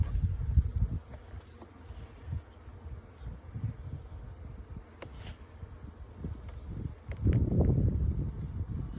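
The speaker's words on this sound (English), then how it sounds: "these are the Buckfast bees in this one, isn't it?" Buckfast honey bees buzzing around a hive with two brood boxes and one super, a low steady hum with swells of louder activity and a denser burst near the end.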